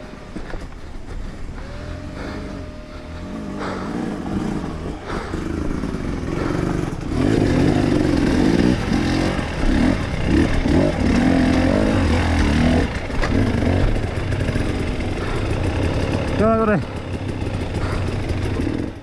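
An enduro motorcycle engine labours on a hard, extreme trail, rumbling and clattering at low revs throughout, with a voice talking over it.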